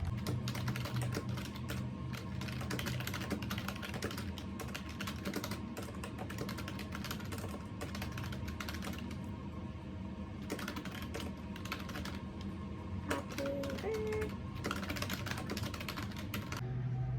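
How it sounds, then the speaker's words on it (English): Continuous computer keyboard typing while entering monthly entries into a budget tracker, steady clicking keystrokes at close range with no talking, over a constant low background hum. "That way it's just easier to just type it and then enter."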